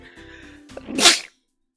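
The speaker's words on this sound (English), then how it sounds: "I'm gonna sneeze." A single loud sneeze bursts out after a short breathy build-up, then stops sharply into silence.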